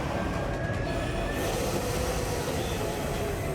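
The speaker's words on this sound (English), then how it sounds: "The giant ore trains are ready to run again." A giant ore train rolls along Australian railroad track, a steady loud rumble of wheels and wagons with a faint high squeal riding over the continuous roar, no voices.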